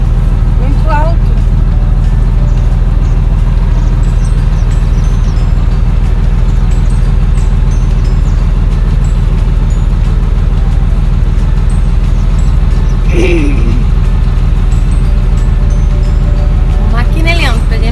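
From inside the tall cab of a large truck on the road, a heavy, constant engine rumble and road drone fill the whole stretch loudly. Brief voices surface faintly a couple of times.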